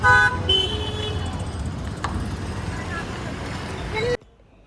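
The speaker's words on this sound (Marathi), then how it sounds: "बघा चौक, बापरे किती गाड्या आहेत" Busy traffic at a crowded city intersection right after rain, with a steady roar of passing vehicles and several horn toots, loud and close, ending abruptly near the end.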